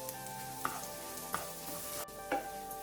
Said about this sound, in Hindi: और अभी इसको लो फ्लेम में 3 से 4 मिनट तक अच्छे से फ्राई करेंगे ताकि जिंजर और गार्लिक का रॉ स्मेल चला जाए